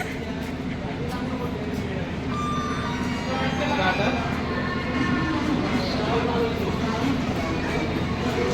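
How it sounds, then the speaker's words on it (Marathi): A moving passenger train bound for Veraval rumbles steadily from inside the carriage, a continuous low drone with brief tonal squeals, while passengers chatter over it throughout. "आम्ही ट्रेनमध्ये चढलोय."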